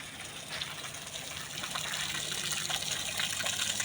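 Water flows steadily out of a wall and gushes into a bottle, a continuous close splashing rush that grows slightly louder toward the end.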